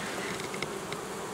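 Honeybees buzz around the entrance hole of a hive, a steady soft hum with a few brief nearer passes of individual bees, no voices.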